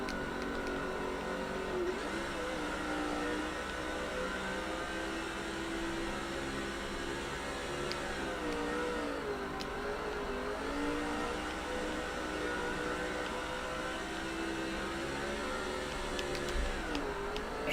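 Race car engines drone steadily in NASCAR 06 at the Devil's Canyon track, a continuous loud buzzing whine that rises and falls slightly with throttle changes, with no talk over it.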